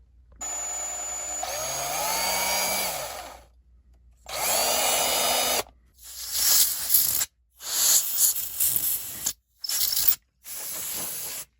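A small drill with a 2.5mm bit whirs in several bursts through a 3D-printed hole, pitch rising and falling as it bites, with short pauses between runs and some grinding, ratcheting noise.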